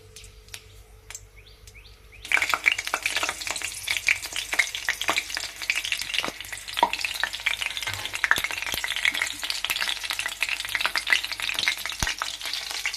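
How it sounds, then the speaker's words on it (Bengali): Quiet at first, then a sudden loud sizzle as chilli hits hot oil in a wok, crackling and spitting steadily and close by until the end. "তেলে আমি এবার লঙ্কাটা দিয়ে দিলাম।"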